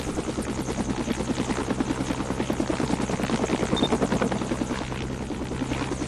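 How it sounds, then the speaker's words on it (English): A helicopter in the Roblox game, with steady rotor chop and engine hum holding at an even level throughout, close and loud with no talk over it. "So let's just put it out of the helicopter."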